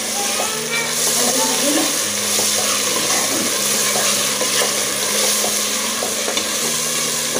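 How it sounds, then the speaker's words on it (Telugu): Ginger garlic paste frying and being stirred in a pan while cooking a goat head gravy curry, a steady close sizzle with scraping stirs throughout, and a voice speaking briefly over it. "అల్లం వెల్లుల్లి పేస్ట్ వేసుకున్నాం"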